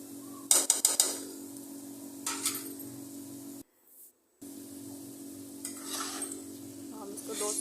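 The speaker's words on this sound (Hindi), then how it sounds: "हम इसको 2 से 3 मिनट तक भूनेंगे" Potatoes tossed with ketchup being stir-fried in a pan, a soft continuous sizzle under repeated scraping and clinking of a spatula against the pan, close-up with a brief drop-out in the middle and no talk.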